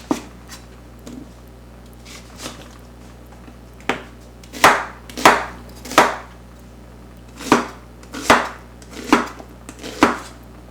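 A knife chops onions on a cutting board, about a dozen sharp, separate strokes spaced unevenly, several of them loud and close. They are being cut for a Mexican cheese soup, caldo de queso, and a faint steady hum sits underneath.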